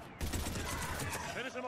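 Rapid automatic gunfire rings out loudly and without pause in a Mass Effect 3 battle, dense bursts layered over one another across the whole stretch.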